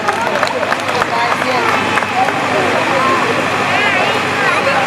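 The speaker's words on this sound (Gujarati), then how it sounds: "તાળીઓના ગડગડાટથી વધાવીએ સન્માનને." An audience at a school annual function claps to honour a guest called up to the stage, producing dense, sustained applause that stays loud and even throughout, with faint voices mixed in.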